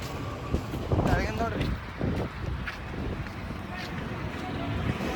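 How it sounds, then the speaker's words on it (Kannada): Strong wind gusting across open ground in Bijapur at night, a rough blustery roar buffeting the microphone, with voices talking over it in the first half. "ಇಟ್ಟು ಗಾಳಿ ಬಿಟ್ಟದ, ಇಟ್ಟು ದುಮ್ಮಾಣ ಹಾರಾಡ್ಲಾಗದ ಬಿಜಾಪುರ ಡಸ್ಟ್"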